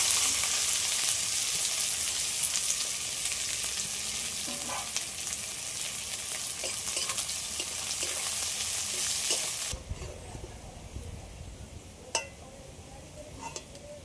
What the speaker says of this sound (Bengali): কুচানো পেঁয়াজ এবার তেলের মধ্যে দিয়ে দেবো,